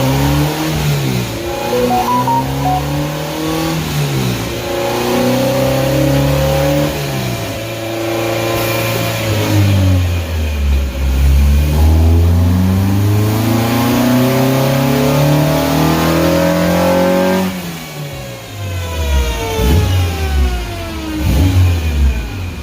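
A coupe engine on a dyno is revved hard through several rising and falling sweeps, climbing through the gears and easing off between pulls. It is loud and close, with no talking.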